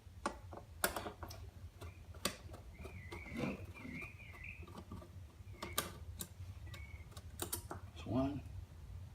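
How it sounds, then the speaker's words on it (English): Screws on a Boxer shift boot are loosened by hand, giving a run of sharp, irregular clicks and ticks close by, with a faint murmur in the background. "Now loosen these 2 screws up."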